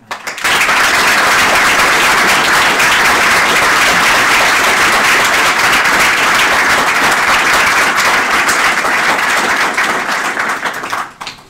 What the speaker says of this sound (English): could I ask for a round of applause for our